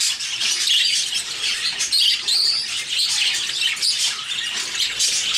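A large pet bird, a big male kept in a breeding pair, squawks and chirps near a nest box, giving loud, harsh calls in a continuous series that fills the whole stretch, close by, with no talking.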